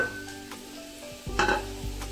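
Onion sizzles in a pan as it fries toward browning, a moderate hiss with a few stirring scrapes and a louder burst of sizzle partway through.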